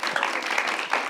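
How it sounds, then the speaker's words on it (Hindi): A studio audience on a Pakistani talk show claps briefly, a short dense burst of applause without speech. "तालियां"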